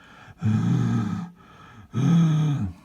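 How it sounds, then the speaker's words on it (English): Two heavy, rasping breaths close to the mic, each lasting about a second, separated by a short quiet pause. "you can hear your own stupid breathing and it sounds like this"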